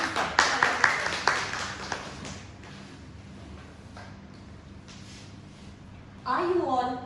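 Audience clapping greets a Toastmaster as she is welcomed to give a speech, a burst of claps that thins and fades before a voice begins speaking.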